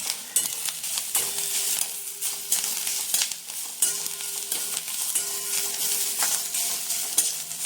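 Garlic and chopped ginger fry in a pan for Pune-style misal pav, giving a steady, loud, close sizzle with brief stirring scrapes throughout.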